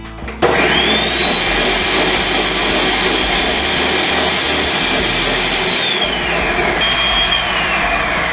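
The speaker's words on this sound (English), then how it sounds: "Make sure to blend it until there's no more visible flakes." A blender roars loudly on high speed right up close, kicking in abruptly and holding a steady whine for several seconds, with its pitch dropping slightly near the end.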